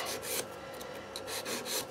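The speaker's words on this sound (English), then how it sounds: "Now you can go sawing action with the nail tip." Fast, raspy back-and-forth sawing strokes of a file across an artificial nail tip, up close and rhythmic, with no talking.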